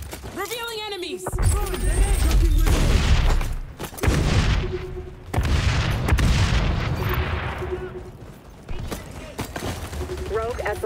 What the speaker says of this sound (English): Deploying frag.